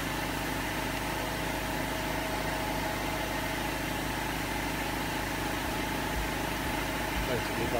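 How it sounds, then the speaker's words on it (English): An air compressor in a workshop drones steadily at a low, constant pitch in the background while a person talks over it throughout. "which is why you can hear the compressor in the background."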